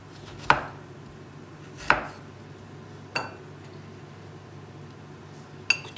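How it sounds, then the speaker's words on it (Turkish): A knife chops frozen okra on a board in four sharp, separated strikes with pauses between them, against a quiet background hum. "Şimdi onları güzelce doğrayıp küçük şekilde yemeğimi pişireceğim."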